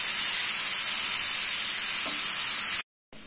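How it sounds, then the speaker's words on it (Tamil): Chopped shallots softening in a hot pan, a loud, steady hiss of frying and steam with no voices, briefly cutting out near the end. "இது கொஞ்சம் வதங்கட்டும்."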